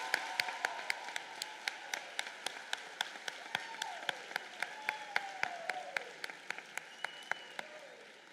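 Quiet, sparse applause at a nursing pinning ceremony held in a gym: distinct individual claps fall in a fairly regular rhythm, thin and somewhat distant rather than a full roar.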